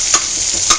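Onions frying and being stirred in hot oil in a pan, a steady close sizzle with two brief scraping stirs.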